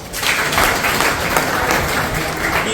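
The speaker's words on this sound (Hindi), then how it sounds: "हाँ, तालियां बजाओ।" An audience at a university campus event bursts into dense, sustained applause, loud and close, with many hands clapping at once and a faint murmur of crowd beneath.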